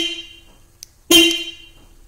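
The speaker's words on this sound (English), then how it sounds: "We're going to lock the doors 3 times." Horn chirps sound from a 2011-2016 Kia Sportage as its doors are locked by remote: a short tone fading at the start, a faint blip, then a louder chirp, all close with no talk.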